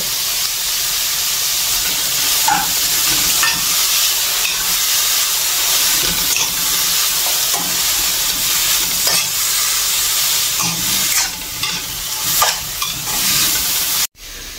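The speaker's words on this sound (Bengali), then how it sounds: "তা আমি হচ্ছে মূলাগুলো দিয়ে দিলাম। দিয়ে এটাকে হচ্ছে ভেজে নিব।" Grated radish frying in a pan, a loud continuous sizzle with occasional stirring scrapes throughout, cutting off abruptly near the end.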